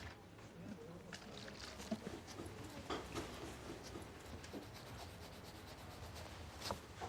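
Cleaner is rubbed over leather with a cloth to lift off excess paint, giving a soft, steady scrubbing rasp in repeated strokes, fairly quiet and close.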